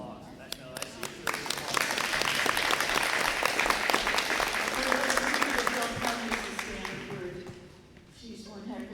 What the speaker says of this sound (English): You deserve an applause.